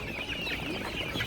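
A rooster at a busy poultry market gives a short run of close, throaty clucks over a faint background murmur, lasting barely a second.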